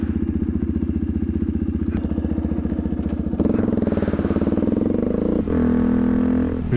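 A Yamaha WR125X motorcycle engine runs at idle with a loud, steady putter, then the revs rise and the tone shifts twice into a higher, rougher drone.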